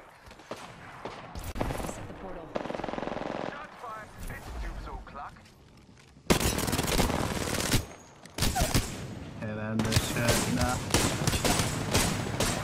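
Gunfire in the Apex Legends video game, with rapid automatic bursts and a dense loud fusillade in the later half, mixed with game effects and players talking over it.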